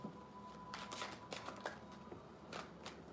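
Tarot cards being shuffled in a few quick riffling bursts, soft and close, with brief pauses between them and no talking.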